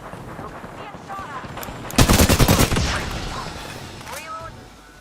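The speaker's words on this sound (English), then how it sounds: "Being shot at" Video game gunfire in a battle-royale match: a loud, rapid automatic burst about a second long, trailing into echoing shots, with game voice lines and chatter before and after.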